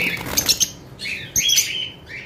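Caged blue masked lovebirds, kept as a pair: bursts of shrill chirps and squawks, close and fairly loud, in two quick clusters with a brief pause between.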